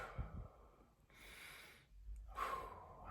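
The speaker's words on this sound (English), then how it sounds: "Breathing. That's right. I'm breathing." A person breathes loudly into a close microphone, with a sharp snort-like inhale followed by a long, hissing exhale and another breath, heard alone in a quiet room.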